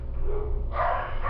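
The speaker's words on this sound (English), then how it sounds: "Dog, shut up!" A dog barks in the background at a home, a couple of yips and barks breaking through a steady low rumble, at moderate distance.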